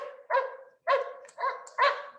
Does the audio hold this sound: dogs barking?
yes